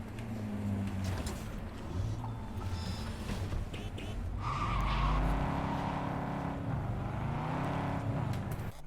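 Car driving in the video game Cyberpunk 2077, a continuous engine drone that rises in pitch as it accelerates, with tire squeal and road noise, loud and close throughout.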